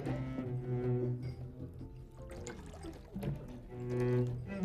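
Tequila is poured from a bottle into a glass, a soft continuous gurgle running for several seconds over a low background hum.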